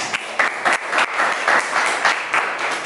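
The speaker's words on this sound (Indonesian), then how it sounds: "Tepuk tangan kita semuanya." A school class of children claps as a group, standing up in a classroom. The clapping is rhythmic and loud, with a noisy spread of hands that pulses in regular beats.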